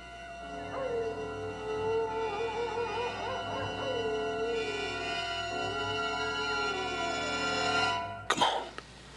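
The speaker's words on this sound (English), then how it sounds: "Then explain them wolf howls to me." Sustained wolf-like howls rise and fall over a steady background hum in a Bonanza western TV scene, ending with a brief rustle or knock.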